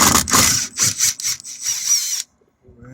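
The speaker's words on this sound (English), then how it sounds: "Get yourself a nice little impact drill." A compact impact drill whirs in short stuttering bursts as it backs out screws from the door panel of a 2006-2011 Chevy HHR, then stops abruptly, leaving a quiet tail.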